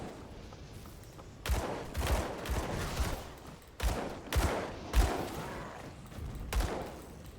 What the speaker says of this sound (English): He's shooting, right? He's shooting these projectiles.